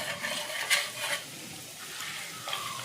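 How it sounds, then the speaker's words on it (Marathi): Grated coconut fries gently in oil over a low flame for chivda, a soft steady sizzle with light stirring scrapes and faint clinks of a spoon against the pan. "लो फ्लेमवरतीच आपल्याला हे खोबरं तळायचं आहे"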